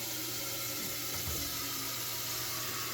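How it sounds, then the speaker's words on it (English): A large cooking pot filling with water from a kitchen tap, a steady broadband rush of running water held for about three seconds with a brief low gurgle partway through, close and fairly quiet. "Fill it up with some water."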